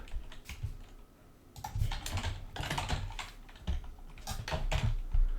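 Someone types code on a computer keyboard in a quick, continuous patter of close, crisp key clicks, with short lulls between runs.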